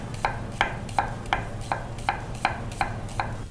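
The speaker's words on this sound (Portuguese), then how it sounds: "Eu vou pegar a cebola e eu vou cortar ela julienne, ou seja, tirinhas." A knife slicing an onion into thin julienne strips on a board, a steady series of about nine crisp, evenly spaced cuts, close and moderately loud with no talking.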